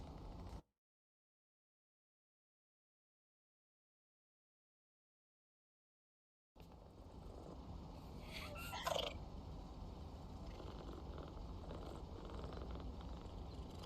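A pet cat purrs in PowerWash Simulator 2, a soft steady rumble that rises after a stretch of silence, with a brief brighter sound in the middle.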